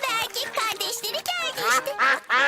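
Several cartoon ducks quack in quick, nasal bursts close by, a lively overlapping chatter of calls.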